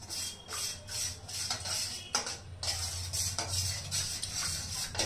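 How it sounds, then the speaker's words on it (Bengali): A spoon stirs yogurt mixed with ground cumin in a bowl, giving repeated rhythmic scraping and clinking strokes at close range. "এবার এটাকে, দইটাকে খুব ভালো করে মিক্স করতে হবে।"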